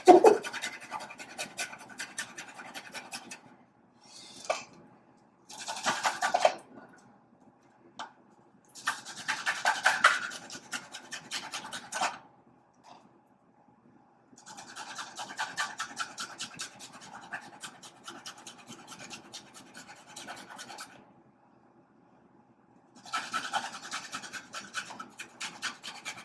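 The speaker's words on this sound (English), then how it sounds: "Make sure that you use the right side of the grater." Food rasps across a kitchen grater while a chickpea curry is prepared, close and fairly quiet, in bursts of rapid scraping strokes separated by short pauses, with no speech.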